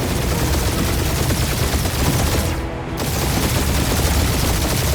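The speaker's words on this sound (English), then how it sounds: "Just make sure you're shooting while you do it." Dense, continuous gunfire from the video game Guardians of the Galaxy, a loud unbroken barrage of rapid shots with a brief dip midway, without speech.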